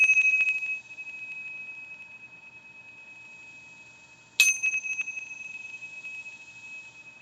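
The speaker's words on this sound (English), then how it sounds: "These are the chimes I use no matter what yoga class I teach" Two bright metallic meditation chime strikes ring out, the first at the start and the second a few seconds later, each decaying into a long, sustained shimmering tone.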